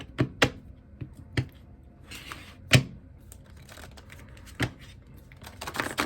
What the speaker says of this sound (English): I love these cards to pieces, but they are so hard to shuffle.